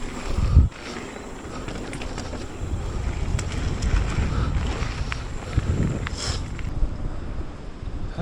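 Gusty wind buffets the microphone during a mountain bike ride, a continuous low roar with swelling rushes and a sharp thump near the start.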